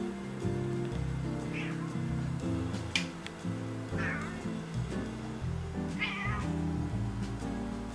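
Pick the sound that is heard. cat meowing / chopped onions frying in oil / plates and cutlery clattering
cat meowing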